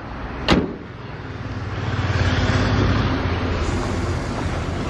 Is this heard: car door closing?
yes